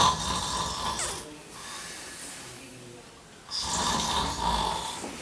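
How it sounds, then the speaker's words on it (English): A person snores in two loud, rasping inhalations separated by a quieter breathing pause, close and rhythmic, with a throaty rattling texture. "If you or your sleep partner is snoring like this"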